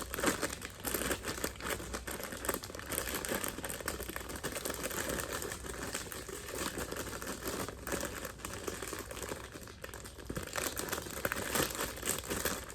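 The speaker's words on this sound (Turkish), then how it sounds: "Sesim gelmiyor olabilir poşet sesinden." Continuous crinkling of a plastic bag close to the microphone, rustling and crackling without pause throughout, with no voices.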